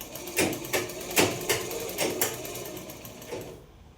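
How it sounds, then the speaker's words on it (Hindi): A sewing machine stitches along the edge of kaftan fabric, its needle thumping in a quick, regular run of close, fairly loud beats before stopping abruptly. "तो बुकरम पे नहीं सिलाई लगानी है, उसके किनारे पे सिलाई लगानी है"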